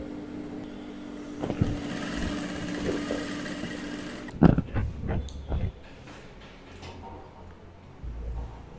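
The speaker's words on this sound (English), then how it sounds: "Go ahead and sew it down like we sewed the other one." Sewing machine stitching down the lining of an inbuilt corset with a keyhole neckline, a steady mechanical run for about four seconds, then a few short bursts of stitching and pauses.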